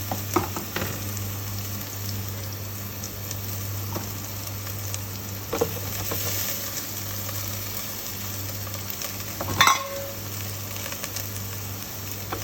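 Vegetables frying in oil in a pan for ratatouille, a soft continuous sizzle close by with occasional stirring clicks and knocks, no talk.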